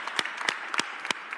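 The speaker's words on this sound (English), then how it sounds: "Give a huge round of applause here." A few scattered handclaps at an Eagles Super Bowl parade press conference in Philadelphia, sparse and uneven, sounding like a small group beginning to applaud.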